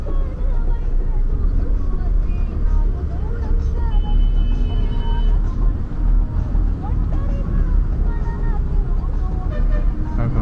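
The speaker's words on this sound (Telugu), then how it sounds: "తిరువూరు బస్సు వెనకెళ్తుంది." A Tiruvuru-bound bus pulls away amid dense Hyderabad road traffic during the Dasara holidays, a steady loud engine rumble and road roar continuing throughout with voices in the background.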